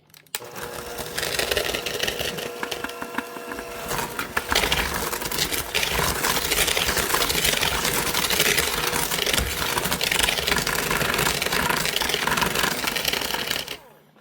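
Pumpkin snickerdoodle dough being mixed with butter in a small home kitchen: a dense, continuous scraping and churning that starts after a brief pause and holds steady and fairly loud for about ten seconds before stopping abruptly.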